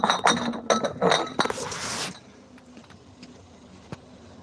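Glass milk bottles from a doorstep milk round, silver-, red- and blue-topped, clink together in a busy run of close, bright knocks for about two seconds, then fall quiet with one last faint tap.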